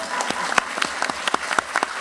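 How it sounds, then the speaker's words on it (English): Audience applause at a school board business meeting: a burst of scattered handclaps from a mid-sized crowd, steady and fairly close for about two seconds. "Give her 2 rounds of applause."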